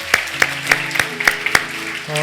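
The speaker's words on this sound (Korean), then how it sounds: "우리 하나님 앞에 다시 한번 감사의 박수, 영광의 박수 올려드리도록 하겠습니다" Rhythmic clapping from a church congregation during a Sunday service, steady beats about every third of a second, with sustained organ or keyboard tones underneath.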